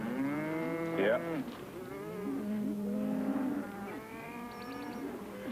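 Cattle moo out on open range, several drawn-out lowing calls overlapping one another, close and fairly loud, with a short break in the middle before more mooing follows.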